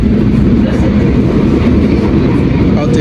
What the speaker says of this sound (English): So this train is heading to Barcelona.